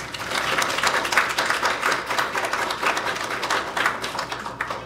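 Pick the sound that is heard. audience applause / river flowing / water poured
audience applause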